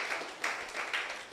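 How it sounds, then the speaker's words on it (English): Soft, distant applause from a conference audience, a steady wash of clapping with slight swells, fairly faint. "Another round of applause for them"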